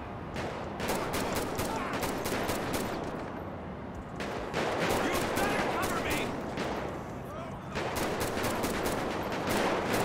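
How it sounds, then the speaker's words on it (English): Gunfire in the GTA 5 LSPDFR police mod video game: loud, dense bursts of rapid shots roll almost continuously, with only brief dips between volleys. "Shots fired."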